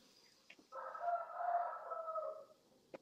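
A fighting rooster crows once at a stable, a single long, loud call rising and holding for nearly two seconds before fading, with a few faint clicks around it and no talk.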